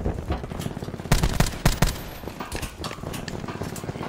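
Rapid automatic gunfire in Black Ops 4, dense bursts of sharp shots clustered in quick volleys, loud and close, with no talking over it.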